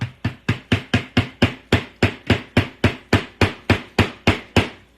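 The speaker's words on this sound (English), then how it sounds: "I'm gonna grab something to hammer this, and hopefully I won't chip the MDF board" Steady, close hammering on an MDF board piece from a 3D pumpkin craft kit: about seventeen sharp, evenly spaced knocks over five seconds, each strike loud with a quick decay.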